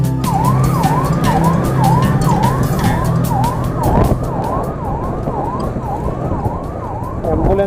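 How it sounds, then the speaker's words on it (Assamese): An ambulance siren wails in a rapid repeating up-and-down cycle as it passes on a busy road, loud and close over steady traffic rumble, with a thump midway. "এম্বুলেঞ্চক সদায় চাইড দিব লাগে, এইটো আমাৰ দায়িত্ব।"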